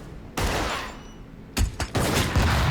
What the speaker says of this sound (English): tosses the flashbang